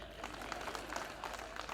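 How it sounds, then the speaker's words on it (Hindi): An audience at a spiritual festival gathering claps along in a steady, fairly quiet patter of hand claps that continues throughout, with no talking over it. "बजा दो बहुओं ताली"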